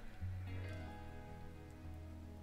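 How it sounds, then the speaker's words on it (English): Heavy rain in the farming video game Farming Simulator 22 makes a steady dense hiss, with a low engine-like drone humming underneath throughout. "there's some heavy rain we're getting today. We're getting quite a lot of heavy rain today."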